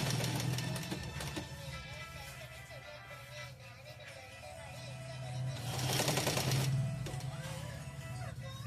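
A sewing machine stitches the shoulder seam of a garment, whirring steadily and fairly faintly up close, with a louder burst of running partway through and soft background noise around it.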